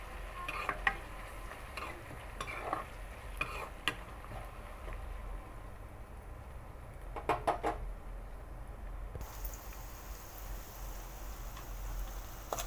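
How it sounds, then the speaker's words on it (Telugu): Crushed garlic and turmeric fry softly in a pan while a utensil stirs them. A faint, steady sizzle is broken by scattered light scraping clicks. "కాస్త పసుపు వేసుకొని బాగా కలుపుకోవాలి"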